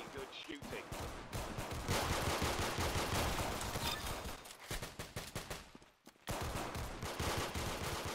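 Repeated pistol gunshots, probably from a game, fire in dense bursts, loud and continuous with a brief pause before resuming, under a busy mix of sound.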